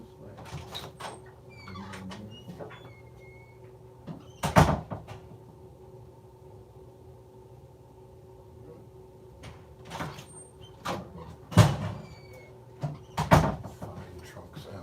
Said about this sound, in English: who's knocking on this glass looking for me?